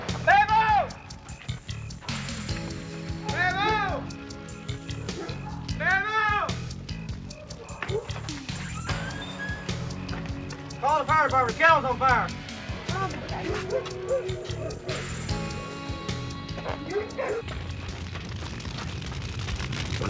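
Many dogs trapped inside a burning kennel bark, yelp and whimper in a frantic, overlapping chorus, with some cat-like cries mixed in, while a voice narrates over the din.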